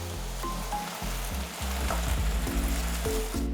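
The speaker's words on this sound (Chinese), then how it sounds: "我现在要炒菜咯" Vegetables are stir-fried on a home stove, a continuous loud sizzle with repeated tossing and scraping strokes in the wok.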